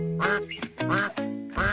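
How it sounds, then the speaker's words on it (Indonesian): A duck quacks loudly and close up in three separate bursts, each one a harsh, nasal call with a short gap before the next. "Yap, hewannya yaitu bebek."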